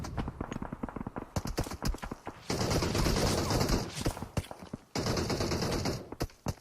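Gunfire outside a building in the PUBG video game: a rapid stream of sharp shots in quick succession, broken by steady sustained automatic bursts, fairly loud and close.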